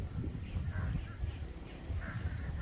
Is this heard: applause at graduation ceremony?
no